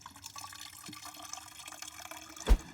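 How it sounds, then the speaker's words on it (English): Water trickles from the spigot of a camping water jug at a campsite, a soft steady pour with a louder splash near the end. "with a spigot like this, it's almost like having a faucet right at the campsite"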